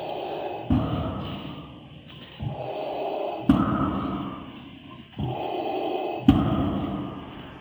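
Slow mechanical respirator breathing of Darth Vader's breathing apparatus repeats at a Star Wars exhibition in London, each hissing inhale and exhale starting with a sharp click, in an even rhythm.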